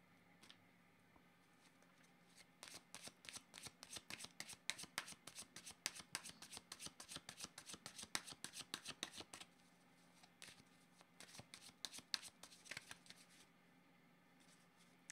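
Tarot cards being shuffled by hand, a rapid riffling run of crisp card flicks that builds, pauses briefly, then resumes in shorter bursts, close and fairly quiet with no voices.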